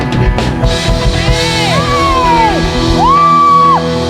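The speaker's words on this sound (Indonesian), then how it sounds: "Tepuk tangan yang paling meriah." Christmas service congregation at GKIN Agape Ngunut cheering loudly and whooping, with long rising and falling shouted voices and a clap or bang near the start, close and lively throughout.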